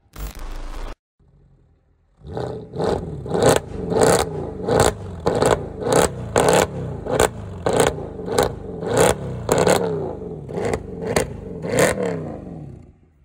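A Mercedes C63 AMG W204 engine blipped hard again and again, with roughly fifteen loud, sharp revs in a quick rhythm after a brief opening burst and a short pause. The sound is close and aggressive.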